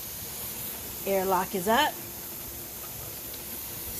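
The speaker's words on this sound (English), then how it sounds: "That's a steady flow of steam." Steam hisses in a steady, broad stream from a pressure canner of sweet potatoes, with a short spoken remark over it midway.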